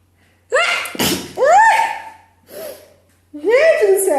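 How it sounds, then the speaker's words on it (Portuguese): A woman sneezes once, loud and close, with a sharp burst among bits of her voiced, gasping vocal sounds before and after. "Até espirrei."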